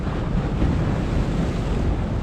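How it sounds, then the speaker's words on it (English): Ocean swells surge and break against the rocky shore at Witches Point on a wintry day, a continuous loud rush of surf mixed with gusty wind buffeting close by, with no voices. "There's some swells coming towards us now."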